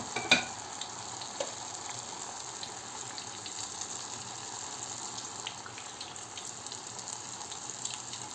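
Oil heating in a pan to fry qatayef pancakes gives a steady, close sizzle and hiss that runs evenly throughout, with a faint clink near the start.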